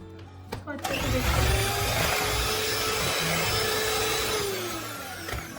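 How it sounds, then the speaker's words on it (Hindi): An electric hand beater whips eggless chocolate cake batter in a large bowl, starting with a few short bumps before a loud, steady, continuous whir that holds to the end. "बीटर से मिक्स करते टाइम इसकी छींटे आजू बाजू गिर सकती है"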